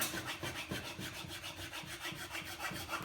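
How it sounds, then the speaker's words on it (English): A flat Japanese Iwasaki file rasps wood off a seven-string, multiscale, fanned-fret guitar neck in steady, close back-and-forth strokes, repeating evenly at a brisk rhythm with no talk. "I'm going to be using a flat Japanese Iwasaka file to start removing wood"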